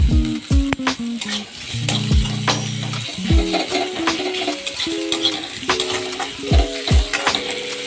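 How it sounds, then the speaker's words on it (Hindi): Onions frying in a pan over a medium gas flame, a steady close sizzle with repeated stirring scrapes and clinks from a spoon against the pan throughout, no talk. "गैस को मीडियम फ्लेम रखिकी पियाज को भाजवा"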